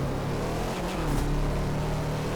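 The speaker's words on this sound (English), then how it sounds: "this Impreza sounds a lot like" A Subaru Impreza engine in the video game Test Drive Unlimited hums at a constant low rumble, with a slight rise in revs partway through and no one speaking.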